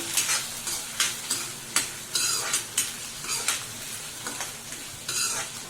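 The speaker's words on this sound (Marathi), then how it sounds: "सगळं सोनेरी रंगावरती परतून घेऊया" Dried shrimp with onion is stir-fried in a pan until golden, giving a low sizzle punctuated by regular, crisp spatula scrapes about every half second, without any talking.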